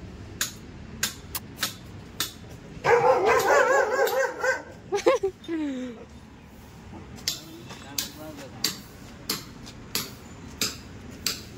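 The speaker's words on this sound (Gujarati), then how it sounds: "અહીંયા દેખી શકો છો તમે ડોગી" A dog at a building renovation site barks and yelps in a short burst midway, while sharp, regularly spaced hammer-like taps ring out before and after.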